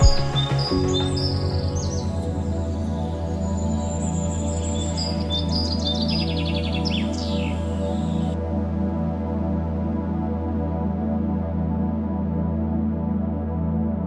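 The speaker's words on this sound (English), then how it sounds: "Pigeons, partridges, songbirds. The sound is constant, a layered noise of fluttering and calling" Caged pigeons, partridges and songbirds at a Kabul bird market fill the air with bright overlapping chirps and calls above a steady low hum. The calls are loudest early on, then the hum carries on alone.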